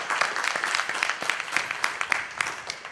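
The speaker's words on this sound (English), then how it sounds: "Let's give a round of applause." A conference audience applauds steadily, dense clapping from many hands filling the room at a moderate distance, with no speech over it.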